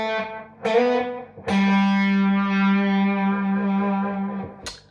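Distorted electric guitar slowly plays a phrase, sustained overdriven notes ringing one after another, loud and close with no talking.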